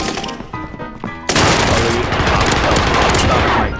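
Call of Duty Warzone gameplay with dense, rapid automatic gunfire bursting in loudly after a quieter stretch of scattered shots, continuing as a sustained fusillade to the end.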